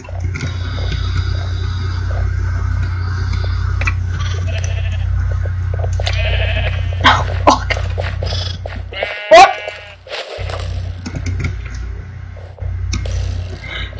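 Sheep in the video game Minecraft bleat repeatedly over a steady low game hum, several short wavering calls clustered mid-way with a loud close one near the end, alone without speech.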